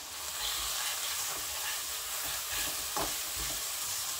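Chicken curry and small pasta shells stirred in a pan, a continuous sizzling hiss with soft scraping of the spoon, fairly close and loud, no talking.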